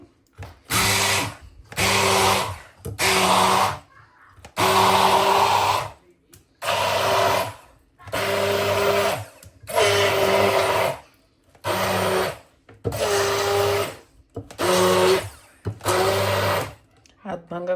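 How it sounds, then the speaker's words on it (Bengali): Electric blender grinding lentils (dal) in a home kitchen, running in about nine loud, close bursts of a couple of seconds each with short silent gaps between, a harsh whirring motor whine. "ডালটা একটু ব্লেন্ড করে নিচ্ছি"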